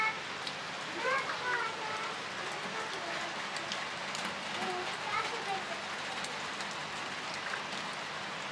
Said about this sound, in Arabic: شوفكم المطر الزخ كل ساعة الجو مطر مطر مطر